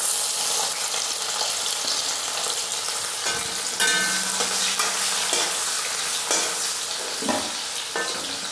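Capsicum stir-fries in hot oil in a kadhai, giving a constant loud sizzle broken by scraping stirs and occasional clinks of the spatula against the pan.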